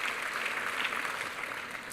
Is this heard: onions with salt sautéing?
no